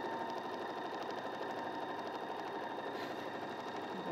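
A sewing machine runs steadily while stitching fabric, giving a continuous fast mechanical whir and rapid needle patter, close and even in level throughout with no talking.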